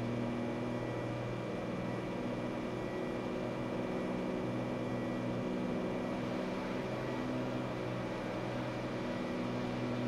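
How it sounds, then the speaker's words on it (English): A steady, dense airplane engine drone in a VR flight simulator game, with a low hum and constant broadband roar, faint rattling texture mixed in, no speech. "It's got those rattles as one of the sounds for the airplane."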